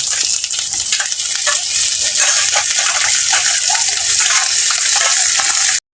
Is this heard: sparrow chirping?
no